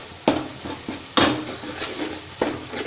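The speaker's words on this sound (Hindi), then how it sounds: "और ये हमारा देखिए मसाला भी अब फ्राई हो चुका है धीरे धीरे करके।" Spice masala frying in oil for egg curry is stirred in a pan, with sharp scraping strokes of a spoon at intervals over a soft continuous sizzle.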